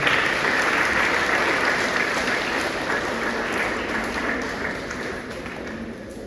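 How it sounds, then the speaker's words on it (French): A crowd applauds steadily, dense clapping filling the space and slowly tapering off toward the end. "Je vous demande de l'applaudir, s'il vous plaît."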